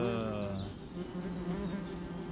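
Ground wasps buzz around their nest after it was treated with insecticide, a steady close droning hum with overlapping wingbeat tones that holds for the whole moment.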